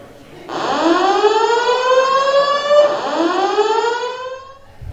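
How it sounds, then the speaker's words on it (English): A hotel fire alarm siren wails loudly in rising and falling sweeps, starting abruptly after a brief quiet and cycling twice, with faint talk beneath it. "We have an alarm condition, and we are investigating the nature of this alarm."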